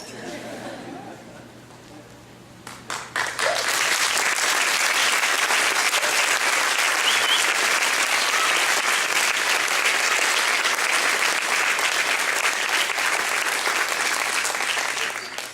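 After a couple of seconds of murmuring room tone, a church congregation erupts into loud, sustained applause, hundreds of hands clapping in a dense, even roar that fades slightly at the end.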